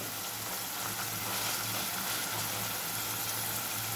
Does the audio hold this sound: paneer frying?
yes